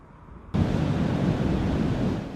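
Ocean surf crashes at Surf Beach under a bright sky, a broad, loud wash of breaking waves that bursts in suddenly after a quiet start and rolls on as a steady roar.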